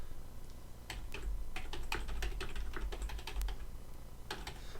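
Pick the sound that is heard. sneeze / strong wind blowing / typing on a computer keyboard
typing on a computer keyboard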